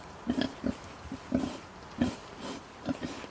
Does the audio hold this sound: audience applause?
no